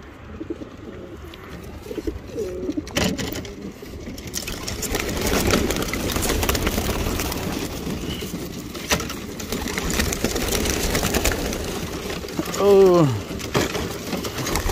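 Racing pigeons coo during a training release outdoors, amid steady handling and rustling noise, with one clear, throaty coo standing out near the end and some faint voices in the background.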